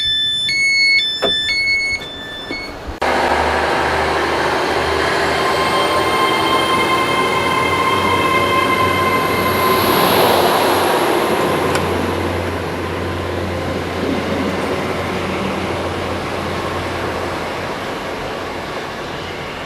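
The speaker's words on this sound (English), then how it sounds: "So that was my first ride on an Evero" An Avanti West Coast Evero passenger train running through North Wales near Flint, heard from on board as a steady loud rumble of wheels on rail with a rising whine, alone without voices.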